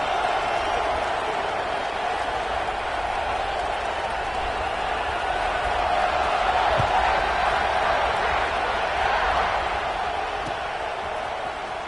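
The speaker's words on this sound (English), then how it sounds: "this crowd is buzzing after that last score" A stadium crowd at a football game keeps up a steady, dense roar and buzz after a score, swelling slightly in the middle, heard as continuous broadband crowd noise with no clear individual voices.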